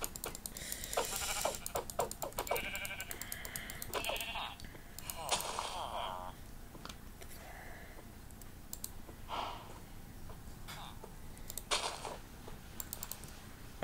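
Repeated bleats from sheep in Minecraft, mixed with clicking and keyboard tapping, a few at a time over a low background.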